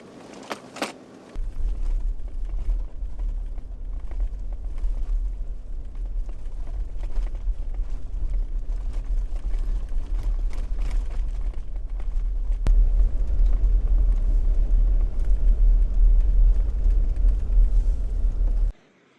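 An overland vehicle reversing slowly in two-wheel drive on a rural Kansas dead-end track, a steady low engine rumble with crunching tyre noise that builds toward the end before cutting off, no voices.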